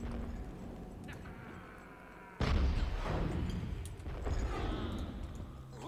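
A cannon firing in a dungeon-building strategy video game, one loud booming blast partway through after a quieter stretch, trailing into rumbling battle noise, with no talk.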